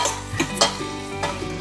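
Curry leaves hitting hot oil and sizzling in a pan, a bright crackling burst with a few sharp pops and stirring scrapes over a steady frying hiss, close up with no talking.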